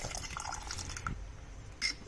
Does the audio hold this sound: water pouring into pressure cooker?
yes